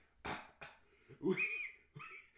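A voice imitates coughing: a few short, harsh coughs followed by a rasping, throaty hack, close and fairly loud.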